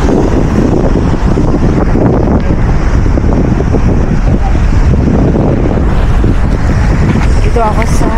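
Loud, rushing sea waves and buffeting wind at a beach in Chania, Crete, fill the scene continuously, churning close by with a brief voice near the end.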